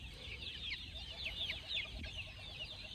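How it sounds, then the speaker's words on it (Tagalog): Chicks cheeping steadily in a farm brooder, with repeated high chirps over a low background rumble; no one speaks. "ito yung mga sisiw natin"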